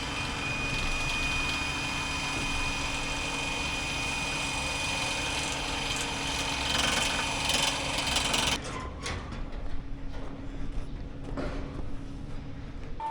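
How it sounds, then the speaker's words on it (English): A power drill whirring steadily while raising stall curtains in a barn, a continuous mechanical drone for several seconds that cuts off abruptly, leaving faint clunks and rattles. "The drill works pretty well for these curtains."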